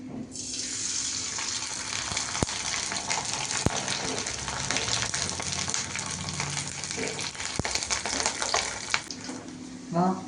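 Homemade kurdai crisps frying in hot oil, a loud, continuous bubbling hiss with scattered sharp crackles, and a faint voice now and then in the background.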